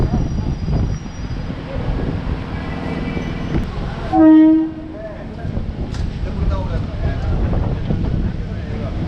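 A continuous rumble of a moving train entering Annanur railway station, with buffeting wind noise, a short horn-like tone sounding midway, and a voice talking over the rumble.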